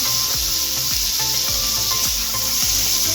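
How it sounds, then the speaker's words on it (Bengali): Chopped hog plum (amra) pieces sizzling in hot tempering oil, giving a steady, close hiss with soft crackles across the whole clip and no talking. "তো এবারে ফোড়নের মধ্যে আমড়াগুলো দিয়ে দেবো"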